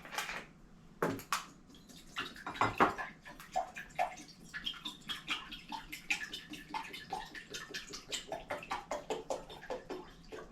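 Water splashes and trickles as 500 cc of non-chlorinated water is poured into a bag for making nukazuke, a Japanese rice-bran pickle, with soft irregular sloshing and drips at close range.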